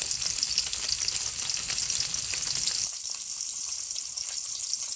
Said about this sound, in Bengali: এবার পুঁটি মাছের চিরাই মাছ এটা আগে ভাজি করতেছে